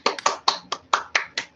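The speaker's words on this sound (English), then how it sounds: "so we can have a round of applause for both David and Dipika" A brief round of applause for an online reading comes as about seven crisp, evenly spaced claps from a single pair of hands, close to the microphone, with no voices.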